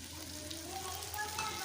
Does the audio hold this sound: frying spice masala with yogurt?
yes